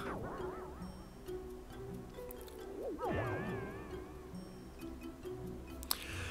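A cartoonish creature voice for the Cheshire Cat in the video game Kingdom Hearts Chain of Memories, wavering and sliding in pitch in a few warbling phrases over quiet game music, with a sharp click near the end.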